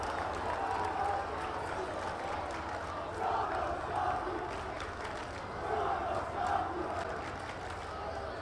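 A high school state championship baseball crowd at Braintree versus Chelmsford lets out a sustained, murmuring groan of disapproval after a strike call, swelling in waves at a moderate distance with some talk mixed in.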